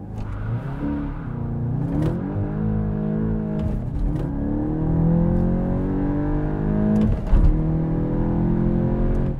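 A 2023 VW GTI accelerates hard in a 0-60 run, its engine climbing loudly in pitch through several gears, with short breaks at each shift before it winds up again.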